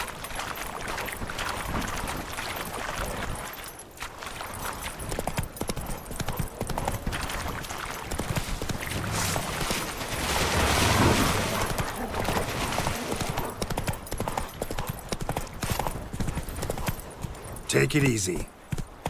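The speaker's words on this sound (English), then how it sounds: "Come on now." Horse hooves drum in a fast galloping clip-clop in The Witcher 3 video game, continuous and mid-level beneath a voice talking to the horse, with game ambience around it.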